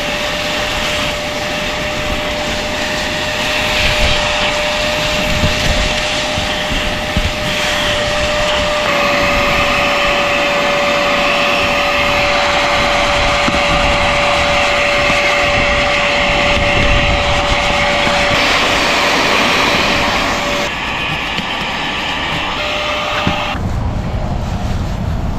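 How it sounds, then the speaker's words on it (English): An extractor vacuum cleaning the seat of a Pontiac Grand Prix under restoration: a loud, continuous motor whine with a steady tone, shifting slightly as the nozzle moves across the upholstery. "Our extractor vacuum has two handles, one for the big stuff that we've been using, and one for small nooks and crannies"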